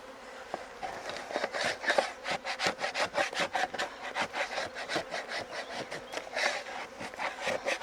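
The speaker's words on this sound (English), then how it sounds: "I'm going to have to scrape comb off there, aren't I?" Steady rhythmic scraping of beeswax comb off a wooden beehive frame, a rasping back-and-forth stroke repeated many times, close and fairly loud with no voices.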